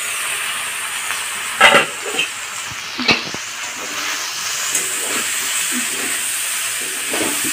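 Spices and bamboo shoots frying in a pan, a steady close hiss and sizzle with a few brief clinks and scrapes of stirring.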